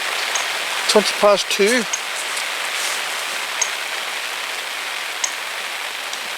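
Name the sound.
rain falling while fishing under an umbrella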